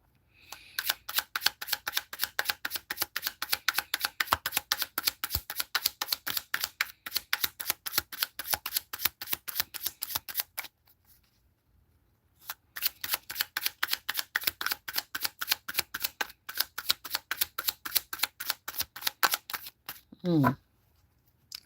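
A deck of tarot cards is riffle-shuffled up close, with dense rapid clicking bursts of about ten seconds each, a short pause between them, and a final snap at the end.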